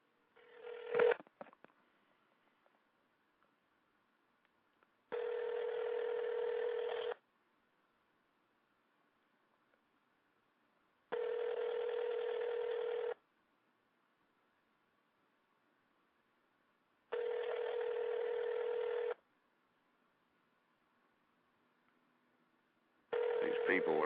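A telephone dials, then rings out over a radio call-in line with four long, evenly spaced buzzing rings separated by quiet gaps, thin and moderately loud.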